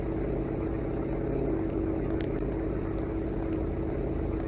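A car engine left running in a horror video game, a steady, loud, low idling drone that fills the whole stretch without a break.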